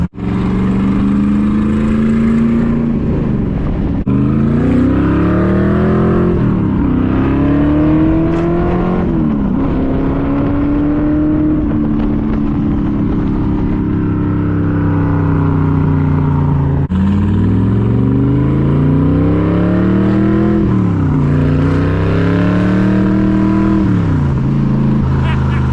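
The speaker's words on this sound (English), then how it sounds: "Riding around in a Shelby Cobra AC has got to be one of the most coolest experiences I've ever had." A Shelby Cobra AC sports car driving and revving up close, its loud engine note climbing through the gears and dropping between shifts, repeated several times.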